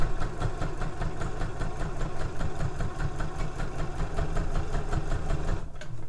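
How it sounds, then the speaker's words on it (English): Rapid, even mechanical chatter of a sewing machine stitching non-stretchy fabric for a zip tote, running steadily for several seconds, close up, with a low motor hum underneath. "a few stitches forward, a few stitches back to lock, and then off I go."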